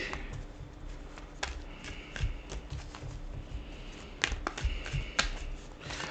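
Soft, close tarot card shuffling: papery riffles and light taps in irregular bursts over a quiet background.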